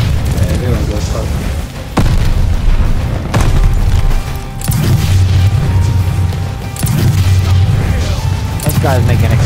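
Grenades exploding in a Call of Duty: Vanguard free-for-all match, a series of loud, heavy booms with crashing debris spread across the stretch, punctuated by brief gaps and mixed with game noise.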